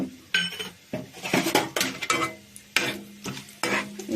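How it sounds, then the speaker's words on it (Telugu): Dried red chillies, garlic and cumin going into hot oil for tempering, heard as a close run of metallic clinks, scrapes and stirring against the pan with a faint sizzle underneath, in bursts with brief pauses. "నూనె కాగింది కదా, ఈ తాలింపు దినుసులు, ఎండుమిరపకాయలు, ఎల్లుల్లిపాయ, జీలకర్ర మొత్తం అన్నీ ఉన్నాయి"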